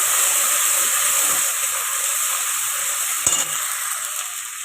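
Tomatoes and ginger stirred in a hot frying pan: a constant close hiss of frying with one brief utensil knock partway through, no speech.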